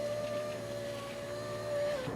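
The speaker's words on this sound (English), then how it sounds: "let's put the window up" Power window motor on a 1998 Toyota Tacoma raising the glass: a steady electric whine holding one pitch for about two seconds, close up and continuous, with a slight drop as the window reaches the top.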